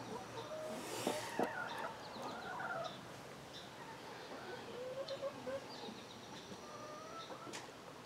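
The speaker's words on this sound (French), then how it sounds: "j'ai une poule couveuse" A broody hen clucks softly on a farm, scattered low clucks and short calls spread across the clip, fairly faint against a quiet outdoor background.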